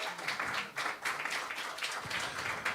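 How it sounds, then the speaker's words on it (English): An audience at a Griot Gatherings storytelling event applauds the hardworking wait staff. The clapping is dense, steady and crackling, a room full of hands sustained for a few seconds. "I'd like to give a big round of applause to a hardworking wait staff."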